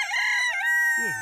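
A young Araucana cockerel crows among chickens and ducks in a coop, one short, loud, close crow that slides down at the end.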